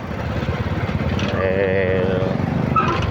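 A motorcycle with a sidecar runs with a worn, cracked wheel bearing, giving a close, continuous rumbling drone with a rough pulsing grind and a faint whining tone riding over it, and a voice speaks over it.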